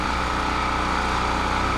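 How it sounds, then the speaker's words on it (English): A generator runs steadily at a constant idle before any load is put on it, powering an RV cord in an old shed; the close, loud engine hum holds unchanged throughout. "let the generator run for about, like 5 minutes before I put the load on it"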